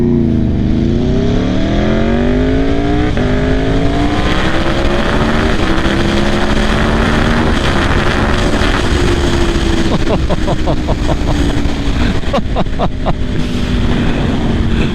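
A 2016 Aprilia RSV4 RF sport motorcycle pulls hard, its engine note rising through the gears with short-shifted upshifts, loud and continuous from the rider's position amid wind rush.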